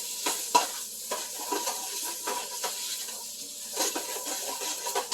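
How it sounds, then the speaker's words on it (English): Jalapenos and celery sizzle steadily in a soup pot while being stirred, with repeated scraping clicks of the spoon at an uneven rhythm, close and moderately quiet. "Stir this up a little bit. It smells really good, and you can smell the jalapenos cooking now."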